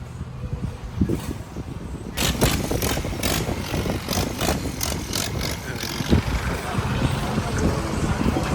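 A modified Dodge Challenger on all-terrain tyres runs its big diesel engine, a loud, steady, rough idle with a low rumble and rhythmic clatter close by throughout.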